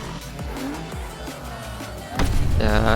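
Racing car in the Need for Speed Unbound video game, engine drone running steadily with a louder surge and tire squeal near the end, someone talking briefly over it.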